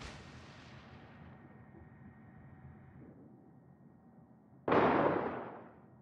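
Naval gunfire in World of Warships from a destroyer engagement: a low rumbling ambience gives way to a single loud, sharp cannon blast near the end that booms and decays over about a second.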